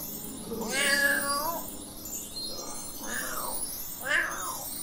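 A cat in The Sims 4 video game gives three drawn-out, wavering meows, moderately loud over a faint game background, with a little chatter in between.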